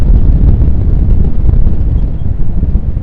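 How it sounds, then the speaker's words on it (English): Strong wind gusting at about 25 mph outdoors in Miami, buffeting the microphone with a loud, continuous low roar and rumble that stays steady throughout, with no other sounds breaking through. "It's literally probably 25-mile-an-hour winds."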